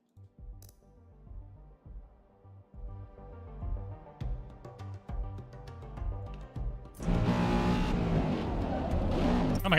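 Race car engines from the video game Forza Motorsport begin as scattered revs over quieter tones, then swell into a loud, continuous, roaring wall of engine and tyre noise for the final few seconds.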